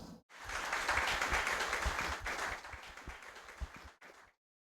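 Audience at a formal inauguration ceremony in a legislative chamber breaks into sustained applause, dense clapping that holds steady for several seconds, then thins and stops abruptly.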